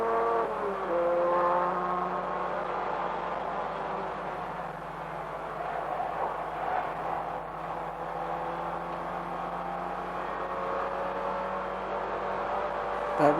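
BMW M3 and Ford Sierra turbo race cars dicing closely in a 1988 production car championship race, a loud, steady engine drone with layered tones that holds throughout, with no voices.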